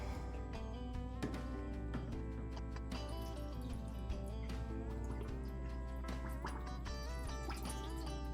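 Hot water pours and drips steadily through a Bunn commercial coffee maker, a continuous trickling splash with faint ticking, heard close and alone without talk.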